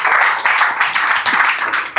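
Steady applause from a crowd, dense clapping that swells and dips slightly over a couple of seconds, with no one speaking.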